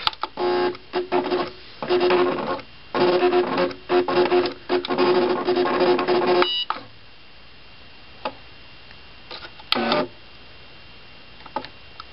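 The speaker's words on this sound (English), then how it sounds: "while the Cricut is cutting that out" A Cricut cutting machine cuts out paper stars, giving bursts of whirring motor movement and clicking carriage shifts for about six seconds, then quieter scattered clicks and a brief whir.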